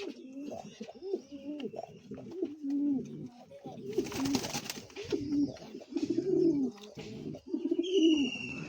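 Pet pigeons kept at home coo repeatedly in soft, rolling calls close by, several birds overlapping, with a brief rustle of wings midway.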